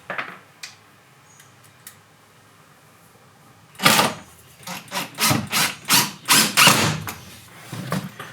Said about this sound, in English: this is when you can start going around and getting your screws going